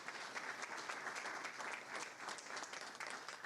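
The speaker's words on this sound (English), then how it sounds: "one more round of applause for all of our honorees" Sustained applause from a crowd at a town board meeting honoring honorees, steady dense clapping throughout at moderate volume with no pauses.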